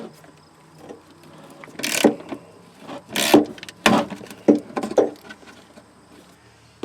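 Wrenching out an 8mm bolt from the fog light housing of a Nissan Titan, heard as a series of close scraping, ratcheting and rubbing bursts, loud and uneven, with brief pauses between them and no talk.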